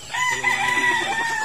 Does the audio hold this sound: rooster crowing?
yes